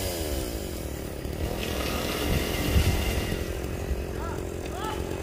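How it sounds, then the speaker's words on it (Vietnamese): A chainsaw cuts through the top branch of a tree, giving a continuous buzzing drone with the engine rising and falling through the cut. Voices talk over it throughout. "phía bên kia anh Dân anh bắt đầu cưa cái nhánh đọt"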